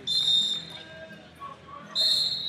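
At a college wrestling bout in the 82 kg round of 32, a referee blows two sharp, shrill whistle blasts, one at the start and one near the end, over quiet gym background with faint voices.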